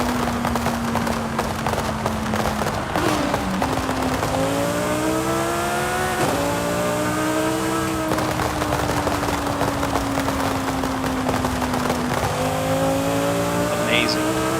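Lamborghini Huracan STO engine in Forza Horizon 5, drag-tuned to 1300 horsepower with 25 pounds of boost, revving hard toward 9,000 RPM with rising pitch sweeps and quick gear shifts, loud and continuous.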